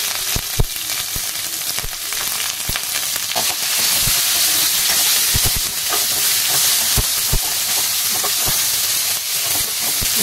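Curry leaves and chopped onion sauté in hot oil in a pan, giving a loud continuous sizzle and hiss broken by scraping stirs and small crackles, close up and without talk.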